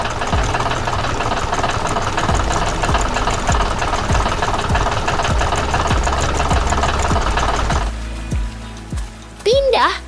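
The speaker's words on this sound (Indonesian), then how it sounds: "Traktor merah berlari dengan cepat di tengah pertanian yang hidup." A red tractor engine chugs with a fast, knocking rhythm on an animated farm, steady and fairly loud for about eight seconds before it fades into quieter background sounds.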